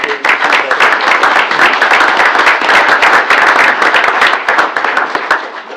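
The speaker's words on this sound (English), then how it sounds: "if we could give a round of applause to all those who" An audience at a township reorganization meeting applauds staff receiving service pins, a loud, close burst of many hands clapping steadily, thinning slightly at the end.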